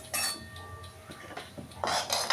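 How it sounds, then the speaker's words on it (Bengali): A wok (kadai) set back down on a kitchen stove, a few sharp metallic clanks and scrapes, the loudest knocks near the start and in a clattering burst near the end. "সেজন্য কড়াইটা আবার বসিয়ে দিয়েছি।"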